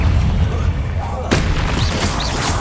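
Booming magical spell blasts from Bombarda and Confringo in the video game Hogwarts Legacy, a loud sustained rumble with a sharp burst partway through, heavy low-end impact throughout.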